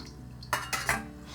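A steamer insert set down onto a metal pot for steaming vareniki gives three sharp metallic clanks in quick succession, close and fairly loud, over a low background hum.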